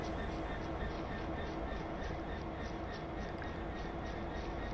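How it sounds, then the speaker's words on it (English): A train rolls along in the video game Train Sim World 2 on its way to a landslide site, a steady dense rumble with faint rhythmic clicking, with no break throughout. "So we're taking this train down to the site of the landslide"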